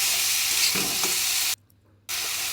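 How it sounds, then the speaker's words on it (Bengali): Turmeric powder with salt frying in oil in a pan for a lentil and potato dish, a loud steady hiss of sizzling with a few stirring scrapes, briefly cut to silence midway before resuming. "আর পরিমাণ মতো হলুদের গুঁড়া দিয়ে এবার এটাকে আমি একটু ভেজে নেব"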